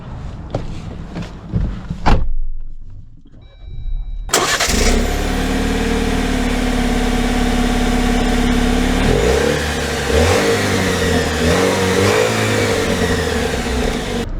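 A 2024 Jeep Wrangler Sport engine cranks to life after a quiet pause, then settles into a steady, loud running drone with a brief rise in revs, heard up close without talk.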